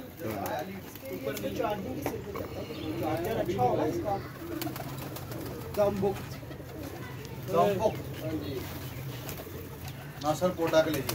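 Pigeons coo repeatedly in soft bursts on a rooftop loft, close to the microphone, while someone talks over them throughout.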